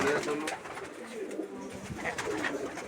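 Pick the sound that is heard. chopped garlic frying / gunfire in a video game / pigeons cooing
pigeons cooing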